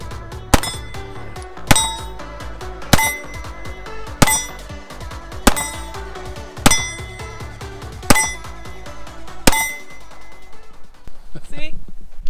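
Pistol rounds striking steel targets at an outdoor shooting range ring out as eight loud, evenly spaced metallic clangs about a second and a half apart, each decaying with a bright ring, then scattered quieter clinks near the end.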